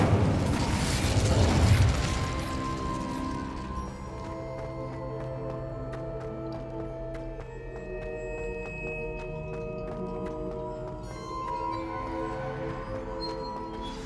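Incendio fire spell cast in Hogwarts Legacy: a loud, rushing fiery burst in the first two seconds, then it fades under sustained, ringing musical tones from the game.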